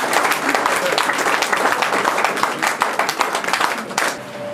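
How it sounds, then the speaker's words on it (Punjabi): Students applauding loudly at a book event honouring guests, a dense burst of clapping from a large crowd, sustained and close, fading toward the end with faint voices mixed in. "ਇੱਕ ਵਾਰ ਸਾਰੇ ਵਿਦਿਆਰਥੀ ਜ਼ੋਰਦਾਰ ਤਾੜੀਆਂ ਦੇ ਨਾਲ"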